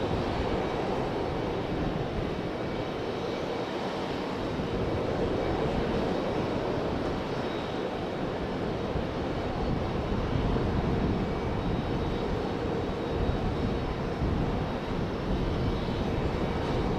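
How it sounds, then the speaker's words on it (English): A FedEx ATR turboprop comes in to land at Raleigh-Durham airport, its broad, steady engine drone holding at an even loudness throughout with no voices over it. "FedEx ATR coming in"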